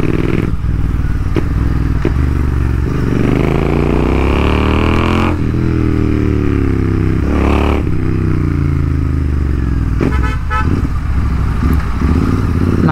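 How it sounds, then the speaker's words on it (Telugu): Motorcycle engine slowing through downshifts, revs falling in steps with brief throttle blips and gear clunks, loud and close with no talking. "బేసిక్గా గేర్ డౌన్ చేసి మెల్లగా ఆర్పిఎం కిందికి తీసుకురావడం మీ గోల్."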